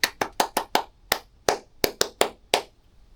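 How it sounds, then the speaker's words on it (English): Hand claps beating out a rhythm in an aural exam practice, about eleven sharp claps in an uneven pattern over three seconds, close and clear with no talk. "Then you clap the rhythm."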